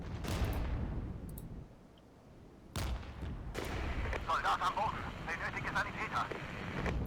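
Artillery fire in the strategy game Regiments: a few heavy booming blasts, one at the start and two more a few seconds later, over a steady battle rumble, with someone talking and some music-like tones underneath.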